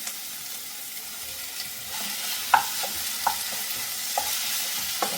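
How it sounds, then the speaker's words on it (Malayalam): Tomatoes going into a pan of frying ginger-garlic masala for a Kerala-style chicken liver curry, with a steady soft sizzle, stirring and a few sharp clinks of a utensil against the pan. "ഇനി അതിലേക്ക് തക്കാളി ഇട്ട് കൊടുക്കുകയാണ്."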